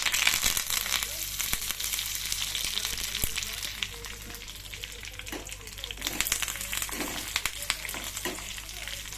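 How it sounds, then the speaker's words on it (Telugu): Mustard seeds, red chillies and curry leaves fry in hot oil, crackling and popping in sharp bursts over a constant close sizzle, with faint voices in the background. "ఇప్పుడు వేగుతున్నాయండి ఆవాలు"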